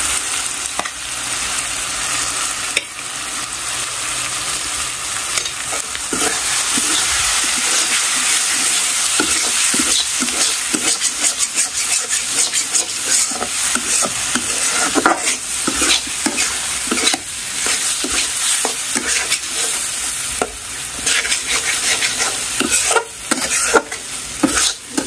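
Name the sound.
potatoes frying and stirred in cooked spice masala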